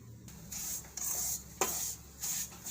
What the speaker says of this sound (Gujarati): આ રીતે આપણે ખમણી લેવું માવાને સરસથી ઝીણું